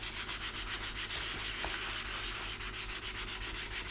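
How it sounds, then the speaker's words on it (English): Primer is hand sanded to feather the edge around filled pinholes, a steady, close abrasive rasp in continuous back-and-forth strokes with an even rhythm and no voices. "So I'm just gonna use my hands. And I'll sand this."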